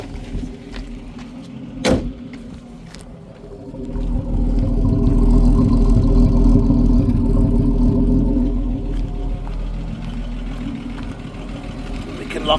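Land Rover 109 Series engine running during a drive across a field, a steady low rumble that swells louder midway and holds, with a sharp knock near the start and faint talk underneath.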